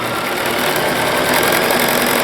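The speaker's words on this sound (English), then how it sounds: "See, it's sewing right on the line here." A sewing machine stitches a pleated blouse, its needle running in a fast, steady, loud whir heard up close and alone.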